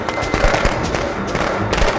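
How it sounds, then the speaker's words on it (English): Dense crackling pops and bangs burst continuously over a noisy backdrop, a string of firecrackers going off in the video game Friday the 13th, with a few louder thumps. "you still got hit by the firecrackers?"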